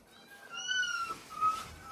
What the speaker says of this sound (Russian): Кто там мяу?